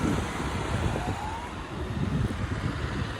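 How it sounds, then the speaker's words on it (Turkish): Road traffic passes beside a field of grazing cows near Gölköy, a steady broadband rumble and hiss of vehicles that holds throughout, with a faint rising whine drifting through partway. "Bir yanda da şöyle trafik var şurada da."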